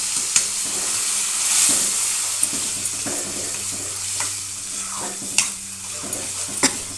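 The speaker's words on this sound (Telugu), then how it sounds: "రుబ్బుకున్న గోంగూర వేసుకోవాలండి అందులో." Ground gongura (sorrel leaves) paste stirred into a pan for gongura pickle, giving a steady soft sizzle with scattered scraping stirs and spoon clinks up close, no voices.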